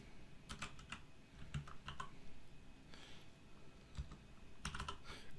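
Clusters of keystrokes on a computer keyboard, entering text into an Excel 2016 spreadsheet, come in quick bursts with short pauses between words, close and clear with no talking.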